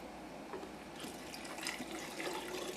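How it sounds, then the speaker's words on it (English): Warm water poured into a jar of dill pickles, a soft, quiet trickle and splash that rises and falls over a few seconds in a calm kitchen. "let's add the water to this"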